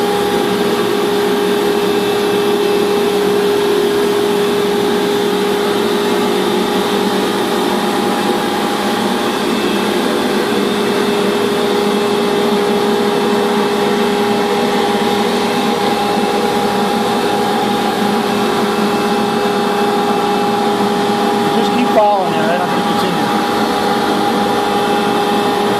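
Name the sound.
banner heat welder running while welding a hem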